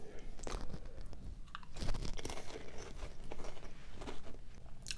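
Garlic crackers crunching loudly and close up while being chewed, with repeated bursts of crisp biting and crumbling and a little background rustle.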